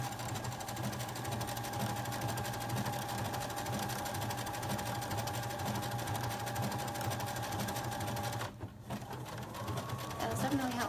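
A sewing machine stitches a decorative seam on a pair of joggers, its motor whirring in a steady, continuous run for about eight seconds before stopping abruptly, then briefly starting again.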